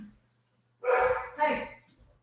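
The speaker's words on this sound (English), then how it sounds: "Sorry for the barking dogs." Dogs barking indoors at home, two short loud bursts of barking close by.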